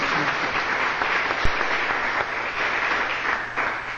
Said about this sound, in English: give them a clap and give them a big welcome to the church